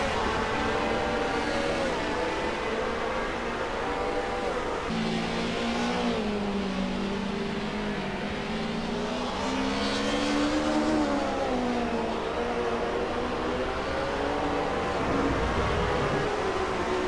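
Sim race cars lapping Imola in Assetto Corsa, a continuous engine drone with shifting revs as one car pulls out of the slipstream alongside another, steady and fairly loud with no talk.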